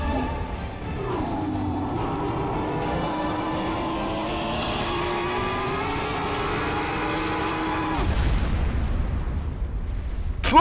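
A grenade explosion in the Broforce video game: a sudden, loud, low blast bursts in near the end, cutting across a long, droning tonal hum with rising and falling whines that runs steadily beforehand.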